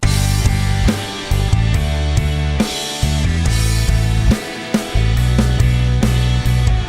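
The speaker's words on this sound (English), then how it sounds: "My left channel rhythm guitar is doing 8th note chords." Electric rhythm guitar chugging steady eighth-note chords, loud and dense with distorted sustain, chord changes every beat or so, played alone without voices.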